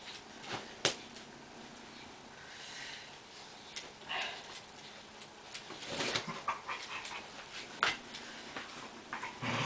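A dog pants, snorts and whimpers in short irregular bursts, close and fairly quiet, with sharp clicks and rustles in between.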